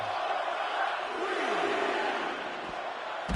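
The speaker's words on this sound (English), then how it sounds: "The crowd now chanting yet one more time." Dense wrestling-arena crowd noise with a broad, sustained roar and chanting energy that stays loud throughout, with no clear individual voice standing out.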